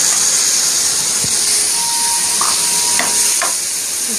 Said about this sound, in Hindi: इसको 3 से 4 मिनट अच्छी तरह से इसको हम फ्राई करेंगे जब तक इसका कलर चेंज ना हो